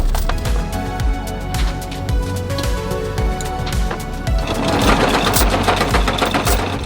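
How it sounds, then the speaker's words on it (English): Anchor chain hauled up aboard a sailboat at night during a Gulf Stream crossing, a steady loud mechanical rattling and clanking with a running motor underneath. "Then it just takes pulling up the rest of the chain as you motor towards the anchor."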